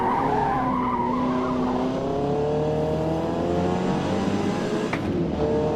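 Race car engines in the Forza Motorsport video game rev and shift steadily while tires skid and squeal, loud and continuous throughout.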